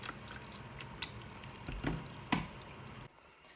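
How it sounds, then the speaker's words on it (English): Cold tap water runs steadily over cooked noodles being rinsed in a sink, with scattered splashes and drips and one sharper splash before the flow stops and leaves a quiet tail. "I'm just going to cool them down with some cold water. Give them a wash at the same time."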